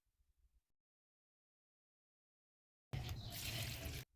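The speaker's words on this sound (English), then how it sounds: "Pour it around the base of your plants." Diluted liquid plant mixture poured around the base of plants, a short, close watery splash lasting about a second after near silence.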